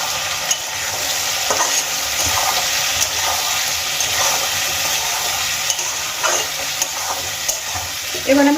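Potatoes and onions frying in oil with salt and turmeric for a Bengali fish curry, a loud steady sizzle with intermittent spatula scrapes and clinks against the pan, no speech.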